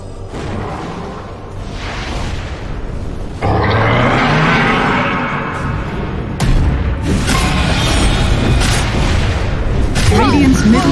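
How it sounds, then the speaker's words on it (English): Dota 2 match audio during a professional tournament game as the Radiant middle tower comes under attack and falls: dense, continuous battle effects with heavy booms, whooshes and bursts, plus a louder surge of impacts near the middle and end. "Radiant's middle tower is under attack. Structures are fortified. Radiant's middle tower has fallen."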